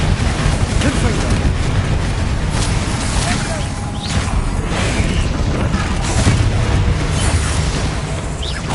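Spell-casting combat in Hogwarts Legacy with a Confringo fire blast, dense and loud booming explosions and crashes layered continuously over a roaring battle bed, with shouted spell names mixed in.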